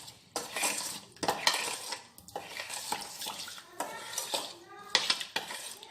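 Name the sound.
stirring melted chocolate into mixture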